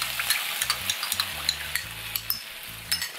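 Sliced onions and a ketchup-based sauce with pepper frying over low heat in a pan for chop steak, giving a steady close sizzle with frequent quick stirring clicks and a low hum beneath.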